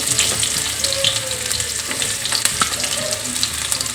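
Chopped onions dropped into hot oil with cumin seeds, frying for aloo paratha filling: a steady, close sizzle with occasional stirring scrapes and pops, continuous throughout without speech.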